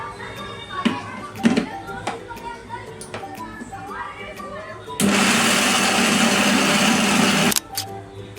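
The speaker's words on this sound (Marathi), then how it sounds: "मिक्सरला लावून घेऊया." A kitchen mixer grinder whirs loudly for about two and a half seconds, blending sugar, sago and milk powder. Before it starts, people talk and there are light clatters, and it cuts off abruptly near the end.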